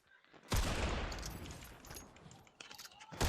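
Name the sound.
gunshots in a video game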